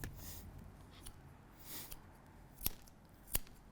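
Scissors trimming a beard in a barber's chair: quiet close snips and soft brushing, with two sharper cuts near the end, no talking.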